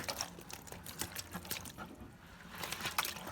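Freshly caught fish are tipped into a basin on a Palawan shore with splashing, trickling water, a few brief wet pours and drips, close and fairly quiet.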